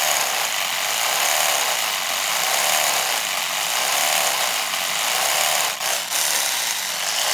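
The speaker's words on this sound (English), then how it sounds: "Then you have 3D white mode. As you see, the oscillations of the toothbrush." An Oral-B Genius 9000 electric toothbrush running in 3D white mode gives a steady, close mechanical buzz for several seconds, briefly stuttering near the end as the brush pulses.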